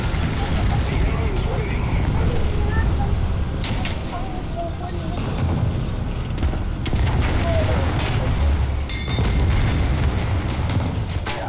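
War Thunder battle gunfire beside a lake: repeated sharp shots and booms over a constant rumbling engine drone, dense and loud throughout, with talking mixed in.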